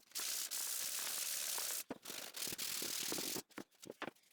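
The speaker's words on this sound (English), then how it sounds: "I sanded it to 140 grit here" Pallet hardwood is sanded to 140 grit, giving close, loud raspy rubbing strokes in bursts, with short pauses and some scraping and handling noises near the end.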